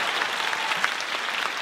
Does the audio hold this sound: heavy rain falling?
no